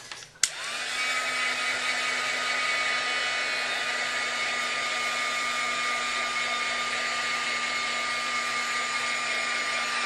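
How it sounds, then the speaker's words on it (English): A heat tool clicks on and blows a steady, loud whirring hiss with a high whine while drying paint in a mixed media notebook, running alone without pause. "I'm going to dry it with my heat tool"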